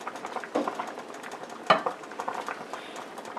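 Spaghetti sauce and cream being mixed in a cooking pot for Honduran spaghetti, a soft run of stirring scrapes with a gentle sizzle underneath and one sharper utensil knock partway through, close and moderately quiet, with no talking.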